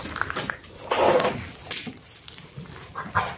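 A Šarplaninac shepherd dog gives a few short, close yips and whimpering barks in quick, uneven bursts.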